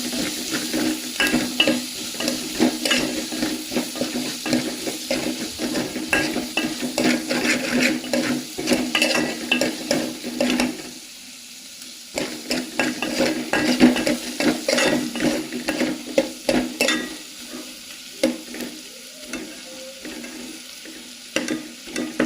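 Onion, green chili and garlic saute in a hot pan with steady sizzling and repeated stirring scrapes, loud and close, with a brief quieter pause midway before the frying resumes.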